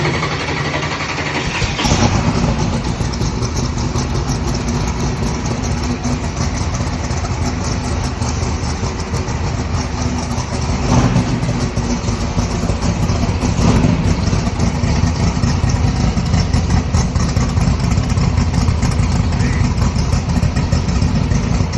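A 3,500-horsepower Camaro engine cranks on its electric fuel pump and catches, then settles into a loud, steady, rumbling idle that runs on without a break.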